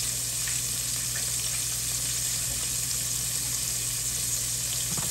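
Shrimp and potatoes sizzle steadily in a frying pan, a dense, continuous crackle of hot oil that stays loud and even throughout with no talking.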